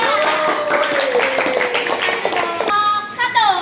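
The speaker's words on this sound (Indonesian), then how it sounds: "tepuk tangan buat kelompok 1" Applause rises for a team of students in a classroom practice-teaching session, with voices and chatter layered over the scattered clapping.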